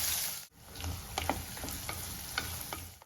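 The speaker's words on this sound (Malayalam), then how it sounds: "രണ്ട് പച്ചമുളക് ചെറുതായിട്ട് അരിഞ്ഞതും കൂടെ ഇട്ടു കൊച്ചുള്ളി ഒന്ന് വാടി വരും" Chopped shallots and two finely cut green chillies sautéing in a pan for a Kerala-style snake gourd pulincurry, a steady close sizzle broken by several sharp stirring scrapes.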